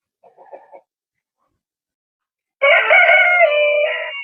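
A few soft clucks from Australorp-Romanian chickens, a brief silence, then a rooster crows loudly and close, one long drawn-out call.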